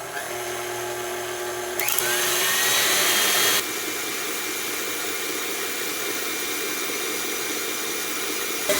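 Electric stand mixer whipping Swiss meringue, a loud continuous motor whine that rises in pitch as speed increases, then settles into a steady whir that runs on alone.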